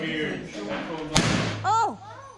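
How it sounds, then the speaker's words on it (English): A muzzleloader gun fires outdoors in a single sharp, loud report, with people talking before it and a voice exclaiming right after. "is shooting a muzzleloader"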